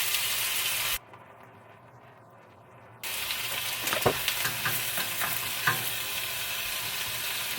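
Ham and an egg sizzle steadily in a frying pan for a breakfast sandwich, with a constant close frying hiss, a short quiet gap, then the sizzle returning alongside light scraping and tapping of a utensil.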